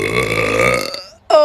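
A woman lets out a long, loud, close burp that rumbles on for nearly a second, followed after a short pause by a second brief burst.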